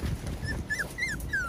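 Several short, high-pitched whimpers from 5.5-week-old puppies come in quick succession over a low rumbling background, close and clear, with no speech.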